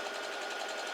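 A sewing machine runs steadily for a moment, stitching across the interlocking seams of a quilt block, with a continuous whirring hum and no talking.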